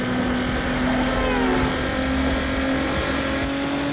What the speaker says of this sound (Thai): โอ้ยเสียงยางเปลี่ยนไปด้วยนะครับใช้เสียงกริปยางแล้วอ่ะ